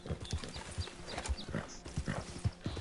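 Horse hooves galloping in Red Dead Redemption 2, a quick, close, rhythmic clip-clop of hoofbeats over rough ground, loud and steady throughout with no talking.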